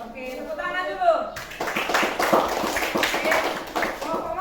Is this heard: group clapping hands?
yes